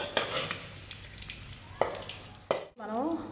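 Tempering poured into bottle gourd chutney crackles and sizzles steadily, with a few sharp clinks along the way, before a voice speaks briefly at the end.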